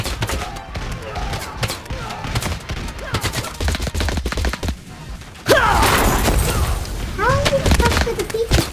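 Shotgun blasts and crossbow shots from small armies clashing in the battle game TABS, irregular bursts of impacts and thuds with a louder, busier barrage in the second half, under scattered talk.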